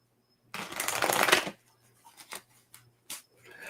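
A quick riffle shuffle of playing cards, a dense papery burst lasting about a second, followed by a few soft taps and clicks as the deck settles.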